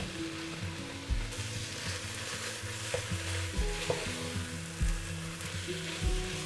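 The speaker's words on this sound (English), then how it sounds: "So now it's time to brown the venison" Venison sizzles as it browns in a pan with garlic, a steady close frying crackle broken by several heavier thumps and scrapes from stirring.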